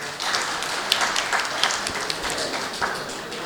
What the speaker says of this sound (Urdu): تو ان کے لیے ایک میں چاہتا ہوں کہ آپ ذرا تالیاں بجا دیں